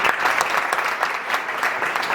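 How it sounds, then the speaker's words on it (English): An audience gives hearty applause at a Kentucky State University event as the governor is invited to the podium, a dense continuous wash of clapping throughout. "Can we give a hearty applause?"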